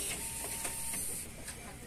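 A Compuprint 3056 dot matrix printer feeds paper, giving a faint, steady mechanical whir with soft periodic clicks over about two seconds, and no voices.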